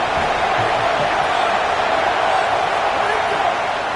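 A college football stadium crowd at Iowa versus Michigan roars for the defense on third down. The loud, steady wash of noise has a commentator's voice running over it.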